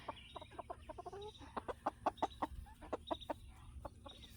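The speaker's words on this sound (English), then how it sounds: "we have 2 roosters, Leroy and Pedro, and we have 3 hens" Chickens clucking nearby in quick, irregular bursts of short clucks, fairly quiet against a soft background hum, from a backyard flock of roosters and hens including French Cuckoo Marans.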